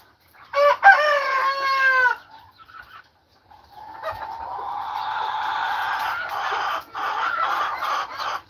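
A young black rooster crows once, loud and close, then clucking and chatter from other farm fowl follow in a dense background.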